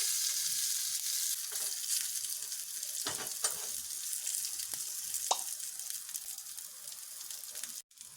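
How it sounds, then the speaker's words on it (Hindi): Curry leaves, green chillies and asafoetida sizzle steadily in hot oil for a tadka. A few sharp crackles and pops break through the continuous frying hiss, with no talking. "कड़ी पत्ते, हरी मिर्च, सभी चीज़ों को रोस्ट कर लेंगे थोड़ी देर।"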